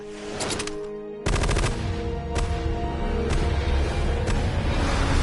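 Sustained gunfire from Metal Gear Solid: Snake Eater, a sharp burst of rapid shots that breaks off briefly, then a loud, dense, continuous volley of automatic fire with booming low end.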